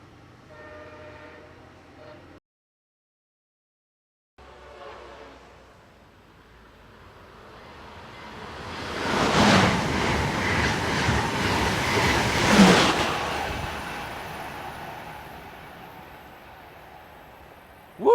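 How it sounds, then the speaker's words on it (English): A MARC passenger train, number 418 to Baltimore, approaches and rushes past at Seabrook, Maryland, swelling from a faint rumble to a loud roar with two strong horn-like bursts, then fading away. "That's train 418 to Baltimore."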